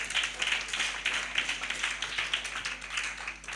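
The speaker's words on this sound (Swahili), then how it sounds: "tumpigie makofi tena" A church congregation at a Sunday service claps together, a fast, dense patter of many hands sustained throughout at a steady moderate level, with no one speaking over it.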